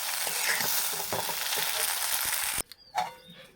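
Egg chow mein with potato and onion being stirred in a pan, a steady scraping sizzle with clinks of the utensil that breaks off abruptly, leaving a few faint clatters near the end.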